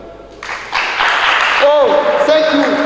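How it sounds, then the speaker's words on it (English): Students at a schools debate championship clap their hands in a short burst of applause that lasts about a second. A voice follows, speaking with sliding, sung-like tones. "If yes, you may clap your hands."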